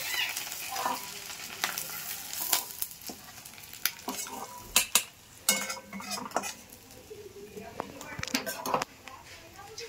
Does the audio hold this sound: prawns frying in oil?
yes